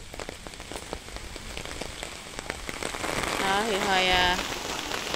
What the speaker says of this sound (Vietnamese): trời đang cũng mưa rất là lớn luôn